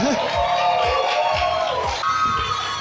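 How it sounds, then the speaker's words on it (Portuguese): A church audience greets a pastor with loud, continuous applause and cheering, whoops and shouts rising over dense clapping, while a voice speaks over the crowd. "Eu quero que vocês recebam com uma forte salva de palmas a nossa pastora Dalila!"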